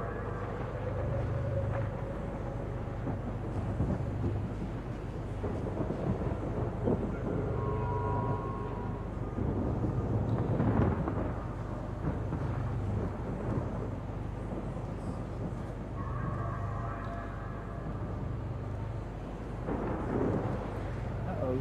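Low rolling thunder rumbles continuously around Lorville, the city on planet Hurston in the video game Star Citizen, a deep steady roar with swelling peaks over a constant ambient hum, while a voice talks intermittently above it.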